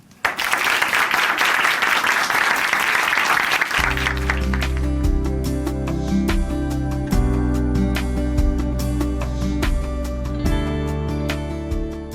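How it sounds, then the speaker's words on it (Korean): A studio audience on a Christian television program applauds loudly as a guest is welcomed on stage; after a few seconds, sustained instrumental music takes over and carries on. "박수로 모십니다"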